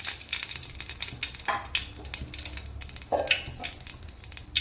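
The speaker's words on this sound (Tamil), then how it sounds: "ஐம்பது கிராம் நெய் சேர்த்துக்கலாம்" Ghee sizzles in a pan for turkey biryani, a crackling, uneven fry with bursts of spattering and light stirring scrapes, fairly close, with no one speaking.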